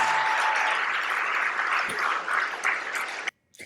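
A crowd of about 1,000 applauds steadily and somewhat weakly for a few seconds, a dense clapping wash that fades and cuts off abruptly near the end.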